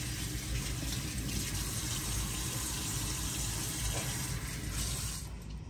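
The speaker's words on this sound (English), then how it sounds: "And now I'm gonna add water." Tap water runs steadily and loudly into a container, mixed into organic white wash for painting trees, with a continuous broadband gush and no talking.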